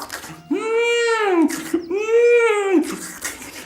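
A voice imitates a wolf greedily drinking river water, making two long drawn-out gurgling gulps in a row, loud and close.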